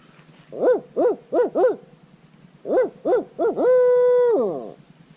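A human voice imitates a barred owl, giving a series of rhythmic hoots in two groups, the last drawn out into a long wavering call.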